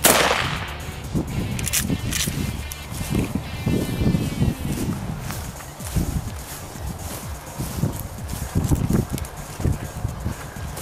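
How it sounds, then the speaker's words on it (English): A Mossberg 500 shotgun firing a standard .410 shell at a target about 45 feet away, a sharp blast at the very start that fades into outdoor wind and rustling noise. "Next shot will be with the Mossberg 500 410 shotgun shell, standard shell at a distance of about 45 feet"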